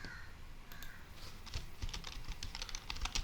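Computer keyboard being typed on, close and quiet, with a run of irregular soft key clicks that thickens in the second half, over a faint background hiss.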